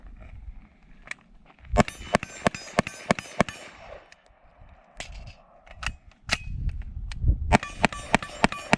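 An Aero Precision 9mm fires a rapid string of sharp shots until the magazine runs empty, loud cracks in quick bursts with short pauses between groups, some shots overlapping, outdoors at a range.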